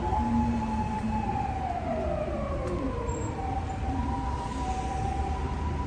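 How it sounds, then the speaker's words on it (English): An ambulance siren wails past on a city street in Osaka, its wavering tone sliding downward as it goes by, steady and fairly loud over constant traffic rumble, with no talking. "ambulance going by."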